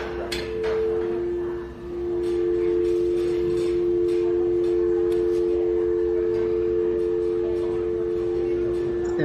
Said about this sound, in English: It was really, really loud in Goodwill today.